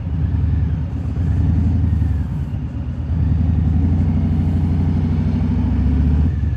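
A 2018 Harley-Davidson Low Rider cruises slowly through city streets, its V-twin engine a low, steady throbbing rumble close by, dipping briefly before settling back into an even idle-paced chug.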